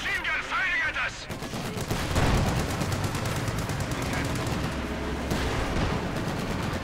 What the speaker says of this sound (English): Heavy machine gun firing at us.